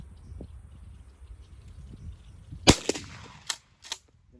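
Shotgun loaded with buckshot fired outdoors at a 40-yard pattern test, one sharp loud blast followed by a few softer shots or echoes over quiet background.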